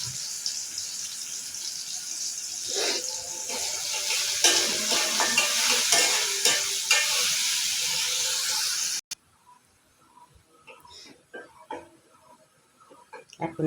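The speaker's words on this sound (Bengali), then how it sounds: "এখন আমি পেঁয়াজটা আবার কী করে তেলে লাল করে আমি মশলার ভিতর দিয়ে দিব" Onions fry in hot oil with a loud, steady sizzle and occasional stirring. Partway through, the sizzle cuts out abruptly and only quiet clatter and faint noises remain.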